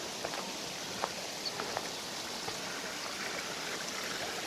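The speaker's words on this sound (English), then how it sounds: "Plenty of water trickling down from the mountains" Mountain water trickling near Gosausee lake in the Austrian Alps, a steady, even rushing wash with faint scattered drips, heard alone at moderate distance.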